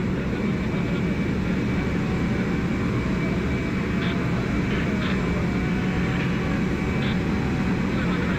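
A Turkish state aircraft sits at Halim Perdanakusuma air base in Jakarta, its engines giving a loud, constant low roar and whine with faint chirps above, steady throughout.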